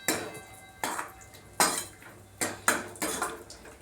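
Chopped dry fruits being roasted in a pan for rice kheer, with a spoon stirring and scraping; five or six sharp metallic clinks at a steady pace, close and fairly loud, with no talk.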